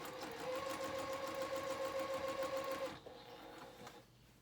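A sewing machine stitches a skirt hem, running at a steady fast whirring hum for about three seconds before slowing and stopping, leaving a faint mechanical rattle; close and alone, with no talk.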